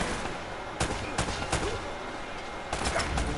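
Gunfire in Uncharted: Drake's Fortune, a few sharp, separated shots at moderate loudness over steady game background noise, with one more crack near the end.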